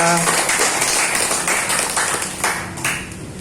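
An audience at a Gippum Medical gathering in Lampung Kemiling claps together in a dense, steady patter that fades slightly over a few seconds, with a voice briefly audible at the very start.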